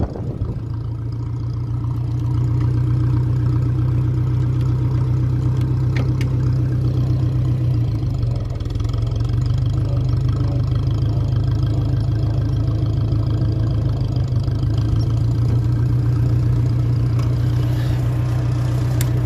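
A 1957 Ferguson 35 tractor engine, now running on petrol, idles steadily for the whole stretch with a deep, even, throbbing rumble and light mechanical clatter, fairly close and with no one talking.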